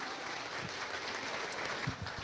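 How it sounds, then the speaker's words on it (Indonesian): At a talk on dinar investment, a seated audience briefly applauds a speaker, a short, fairly quiet burst of clapping lasting a couple of seconds. "bolehlah tepuk tangan sekali lagi untuk Bu Dewi Hesni."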